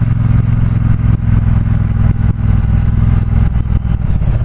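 A 2018 Triumph Bobber Black motorcycle engine thumps along at low revs while cruising, loud and close with a steady, slightly jerky throb.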